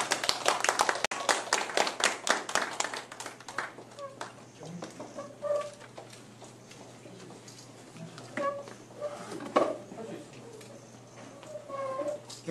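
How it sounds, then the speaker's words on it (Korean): An audience at a presidential candidate's address to the nation breaks into loud, dense clapping that fades after a few seconds, followed by a voice speaking over the quieting crowd. "모두 큰 박수 부탁드립니다"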